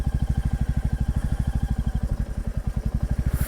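A Royal Enfield Classic 350 motorcycle engine thumps at a steady, rapid single-cylinder beat, close and fairly loud, running alone without voices.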